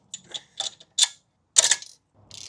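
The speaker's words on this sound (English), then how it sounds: "we're tightening the bottom nut on this ball joint" A wrench tightens the bottom nut on a ball joint during a solid front axle swap on a third-generation Toyota 4Runner, heard as short sharp metallic clicks and ratcheting bursts with brief quiet gaps between them.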